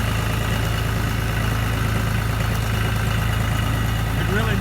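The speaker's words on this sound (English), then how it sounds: "we can back the tractor right up to it." A farm tractor's engine runs on a wooded road during a firewood ride, a loud, steady low rumble that holds constant throughout with no breaks.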